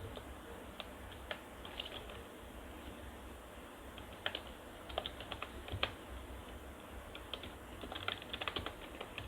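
Close, soft clicking of computer keyboard keys as PHP code is typed, irregular bursts of keystrokes over a faint steady background hum, with no talk.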